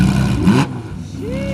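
A Porsche race car fitted with a full roll cage revs its engine loudly, a rough mid-pitched roar rising in pitch toward the end, with voices talking over it.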